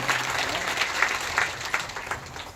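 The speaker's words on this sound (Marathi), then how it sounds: "एकदा जोरात टाळी वाजवा महाराज" Audience clapping at a Marathi kirtan, a short burst of rhythmic hand claps in roughly steady beats, moderately loud with a faint voice at the start.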